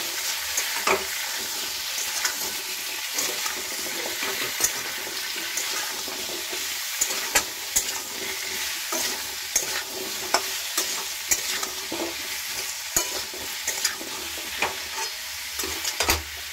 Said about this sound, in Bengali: দিয়ে দিচ্ছি আন্দাজ মতন লবণ, নাড়াচাড়া দিয়ে নিচ্ছি।